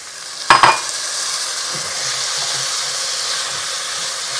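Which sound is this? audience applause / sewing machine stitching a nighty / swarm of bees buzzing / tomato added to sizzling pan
tomato added to sizzling pan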